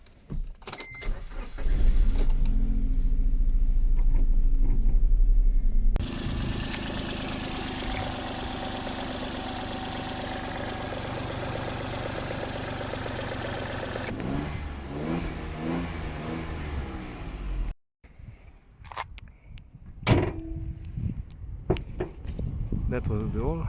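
A 2008 Suzuki Splash's small engine runs steadily at idle, with revs rising and falling and some mechanical clatter, while people talk nearby.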